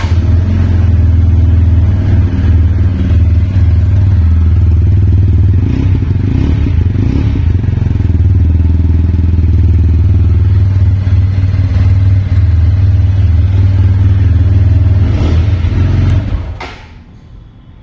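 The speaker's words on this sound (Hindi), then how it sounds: "TVS के सभी मोटरसाइकिल में बहुत ही थ्रोटी एग्जॉस्ट नोट होता है। चलिए इसका एग्जॉस्ट नोट सुनते हैं।" A TVS Apache RTR160 4V motorcycle with a double-barrel exhaust revs loud and close for about sixteen seconds, its throaty engine rising and falling steadily before cutting off abruptly near the end.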